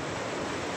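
Surf rolls in at Muko Muko beach in Bengkulu as a dense, even wash of noise, steady and fairly faint, with no voices heard.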